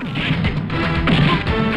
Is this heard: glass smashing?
yes